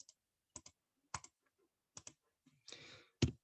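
Sparse keystrokes tapped on a keyboard while entering algebra expressions, short click clusters with pauses between them, near and fairly quiet, ending in a quick burst of keys.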